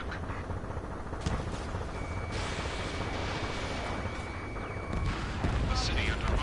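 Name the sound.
gunfire in video game Ace Combat 7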